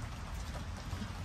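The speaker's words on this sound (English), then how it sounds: "it's starting to rain now" Light rain begins to fall outdoors, a faint, even patter and hiss that holds steady throughout the short stretch with no voices.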